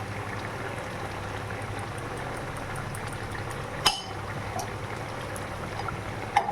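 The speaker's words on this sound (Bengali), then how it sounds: "এবার নামানোর আগে আমি 1 কলা সর্ষের তেল দিয়ে দেবো।" A spoonful of mustard oil poured into a simmering fish and poppy seed dish, heard as a steady low bubbling and liquid hiss close by, with one sharp clink of a spoon against the pan near the middle.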